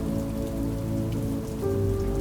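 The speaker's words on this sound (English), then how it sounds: "Raindrops wander down the glass in gentle lines, merging, splitting, tracing quiet paths before slipping out of sight along the sill." Steady rain patters on a glass window pane in a dense, even wash of drops, close and constant, with no voices.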